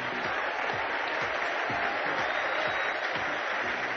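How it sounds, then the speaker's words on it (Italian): Sustained applause from a large crowd, dense and even clapping that fills the space at a steady level without letting up. "facciamo un calorosissimo applauso per una giovane donna piena di talento"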